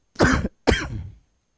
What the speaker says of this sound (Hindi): सर खांसी हो गई क्या आपको?